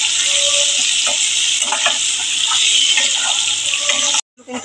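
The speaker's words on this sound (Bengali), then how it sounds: "আমি কিন্তু ওই তেলে আলুগুলো ভেজে নিচ্ছি" Potatoes fry in prawn oil with salt and turmeric for a Bengali prawn tel jhal, giving a loud, constant sizzle with occasional stirring scrapes before the sound abruptly cuts out.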